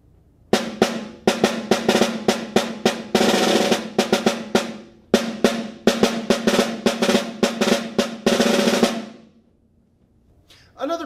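A snare drum played close and loud for an eighth-grade all-state etude: quick drag figures mixed into repeating eighth notes, with buzzing rolls swelling in between, then a fade to near silence.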